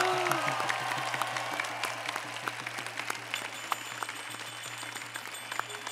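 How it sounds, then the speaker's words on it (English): An audience applauds after a children's Bharatanatyam dance performance, with scattered individual claps and a quieter crowd clapping at moderate distance. Faint background voices mix in. "Give a big applause for this kids."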